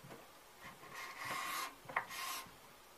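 Hand scraping of wood with a cabinet scraper cut from a Kataba saw blade: a few short, dry rasping strokes at close range, quiet, with no voices.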